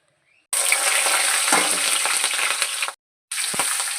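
Green chillies drop into hot oil in a pan of fried fish with a sudden loud, close sizzle that holds for over two seconds, cuts off briefly, then flares up again with a sharp crackle.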